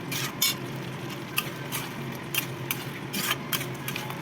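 Curry sautés in a pan as a metal spoon stirs and clinks against the sides in irregular bursts, over a soft background of gentle frying.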